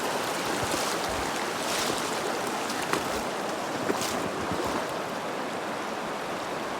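River water flows in a stream during fly fishing, making a steady, loud broadband rush and babble that continues without a break.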